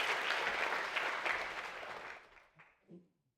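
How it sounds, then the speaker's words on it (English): A congregation at a baptism claps in a warm burst that fades away over a few seconds, leaving faint murmurs at the end. "you can clap for that"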